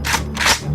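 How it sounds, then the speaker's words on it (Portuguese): A hunter's gunshot in an audio drama: two quick, sharp bursts in rapid succession, moderately loud and slightly echoing. "Antes mesmo do som do tiro do caçador parar de ecoar, Gavi já estava correndo dali"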